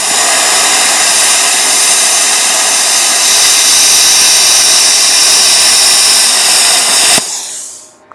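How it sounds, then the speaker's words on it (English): A Vevor CUT-50P pilot arc plasma cutter running on 110 volts cuts through 1/4 inch metal. It gives a loud, continuous, close-up hiss that holds steady for about seven seconds, then cuts off abruptly. "We're going to try this 1/4 inch now."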